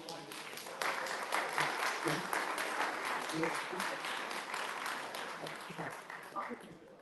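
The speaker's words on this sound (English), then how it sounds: "Let's give him a big round of applause." An audience in Deeplish applauds a newly selected local councillor at a political gathering, a sustained round of clapping of moderate loudness that starts a moment in and slowly tapers, with some voices mixed in.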